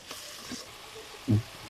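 Vegetables fry in a pan for noodles, giving a soft, steady sizzle with a short, louder scrape or clunk of stirring near the end.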